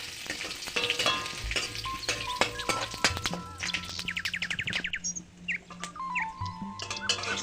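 Panch phoron spices and bay leaf hitting hot oil in a pan, a steady close sizzle and crackle with rapid popping bursts as the spices fry, birds chirping faintly in the background.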